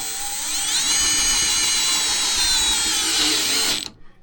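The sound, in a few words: Milwaukee subcompact drill driving self-drilling screw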